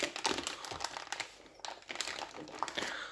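A plastic bag holding red fish crinkles and rustles as it is fed into a vacuum sealer, close crackling bursts that come and go throughout.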